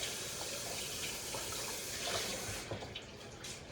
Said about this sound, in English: Just pour the water.